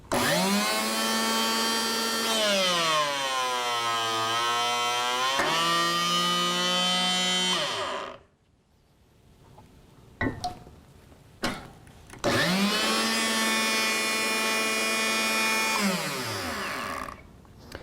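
Enerpac ECCE-series hydraulic chain cutter biting through a chain: two loud, sustained whining motor passes with pitch that sags under load and recovers, separated by a quiet gap with a few clanks as the chain is handled.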